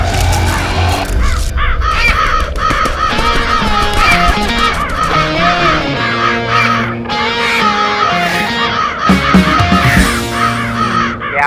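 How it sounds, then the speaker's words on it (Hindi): A flock of kites wheels over a city, their harsh raucous calls overlapping almost without pause and loud and close, with dramatic music running underneath. "इतने सारे चील, this is not a good sign."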